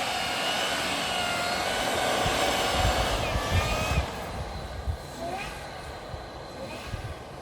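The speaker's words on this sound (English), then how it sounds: "Hear that supercharger?" A supercharged truck off-roading on a snowy side road, with aired-down all-terrain tyres, gives a rising mechanical whine over a low engine rumble and wind noise, swelling and easing as the throttle changes.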